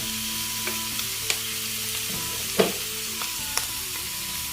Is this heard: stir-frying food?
yes